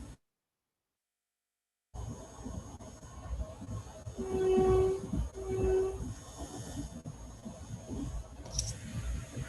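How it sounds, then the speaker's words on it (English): Recorded on board a moving passenger train: a continuous rumbling roar starts after a brief silence, with two sustained horn blasts in the middle, loud and close. "Actually, I'm traveling in train."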